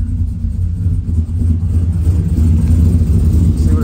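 A big cam LS V8 idles with a deep, steady low rumble, loud and close, holding fairly even for a few seconds.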